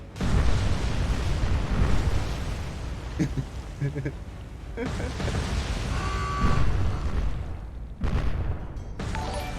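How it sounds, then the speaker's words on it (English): Depth charges exploding in the naval game War on the Sea, heavy rumbling booms rolling in bursts over several seconds, with a voice talking in between. "Oh, they also fire depth charges."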